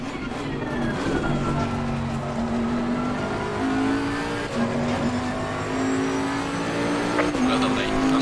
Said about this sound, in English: so enjoy the car sounds.